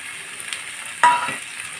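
Tomato, beans, coriander and green chillies frying in a pan for fish, a soft steady sizzle with one sharp scrape of a stirring spoon midway.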